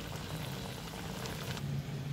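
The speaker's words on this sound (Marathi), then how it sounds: "कढईत मावतील एवढे तुम्ही हे घाला वडे" Sabudana vadas, three at a time, deep-fry in oil in a kadhai over high flame, a soft, continuous bubbling hiss heard quietly and steadily with no talking.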